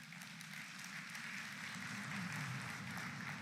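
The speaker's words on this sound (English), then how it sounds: "You can clap for it." An audience at the Microsoft Build 2023 opening keynote applauds steadily, a dense wash of clapping that holds at a moderate level throughout without any voices on top.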